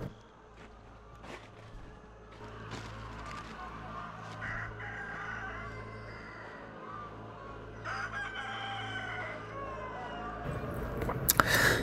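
Free-range chickens on a steep hillside pasture cluck and crow, with a rooster's call and scattered footsteps, fairly faint against background noise while someone speaks.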